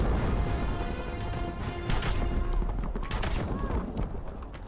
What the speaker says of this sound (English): The enemies have destroyed our ammo supply.